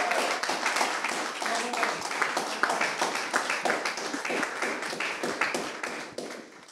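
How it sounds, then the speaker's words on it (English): Audience at a panel forum giving a round of applause, dense overlapping clapping that holds steady and then tapers off at the end. "So please give them a very big round of applause."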